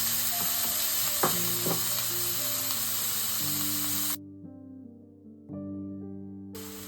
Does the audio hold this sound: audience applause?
no